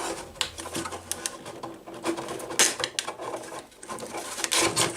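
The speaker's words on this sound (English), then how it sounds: "So find the dimple in the body and get the reamer going." A reamer is worked by hand through a dimple in a Tamiya CC02 Ford Bronco RC car body shell, widening holes for mounting lugs. It makes close, irregular scraping and clicking bursts that repeat in short, uneven strokes.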